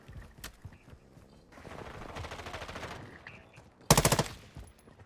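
Automatic gunfire from an enemy driving around in the shooter DMZ, a sustained mid-distance burst followed by a sharper, louder close rattle of shots near the end.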